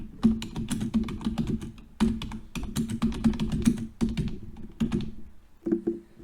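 Rapid typing on a computer keyboard, close and crisp, with bursts of quick key clicks separated by short pauses, no talking.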